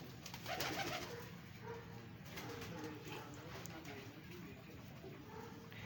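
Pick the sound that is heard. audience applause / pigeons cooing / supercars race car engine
pigeons cooing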